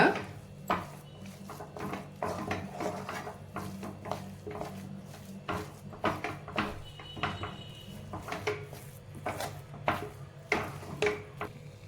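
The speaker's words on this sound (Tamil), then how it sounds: "அடுப்பை லோ ஃப்ளேமில் வச்சுட்டே நீங்கள் நல்லா கிண்டி கொடுத்துக்கோங்க" Repeated scraping and clinking of a utensil against a pan as potatoes are stirred over a low flame, in an uneven rhythm with a low kitchen hum beneath.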